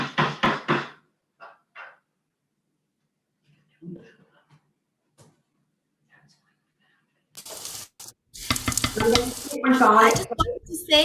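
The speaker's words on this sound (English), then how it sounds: "just give it a stir and make sure the heat is turned down a bit so that it's not going to boil over, and your lentils can just simmer." A spoon stirs simmering lentils for dhal in a pot, with short scraping, bubbling bursts at the start and a louder stretch of stirring and sizzle near the end, while people talk and long quiet gaps fall between.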